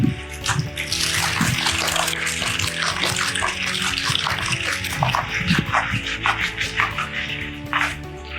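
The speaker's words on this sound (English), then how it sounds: "if you get good water impacting on the plaster, it'll actually strip the algae off the bottom as well" A hose sprays a strong, steady stream of water onto the plaster floor and walls of a swimming pool during acid-wash prep, a continuous close rushing splash with fluctuating spatter throughout.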